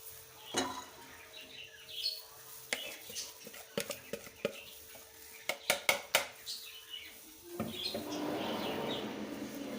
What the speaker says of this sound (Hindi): अब मैं इसको पैन में डाल दूँगी।